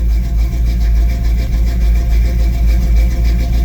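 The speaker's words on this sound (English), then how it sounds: "that's at idle, that's plenty for a small block Chevy" A small block Chevy V8 idles steadily and loudly nearby, a constant low rumble with an even, unchanging beat and no revving, with no voices.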